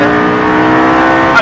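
A Lamborghini Gallardo accelerating hard on a race track, its engine giving a loud, sustained close-up roar with a steady rising tone throughout and a brief spoken word near the end.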